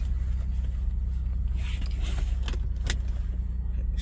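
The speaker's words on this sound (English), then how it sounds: "I got it started now, and I'm just gonna take my car on a bit of a drive" An Acura TL Type S sedan idles after a cold start, a steady low engine rumble that carries on without a break, with a few faint mechanical clicks and rattles over it.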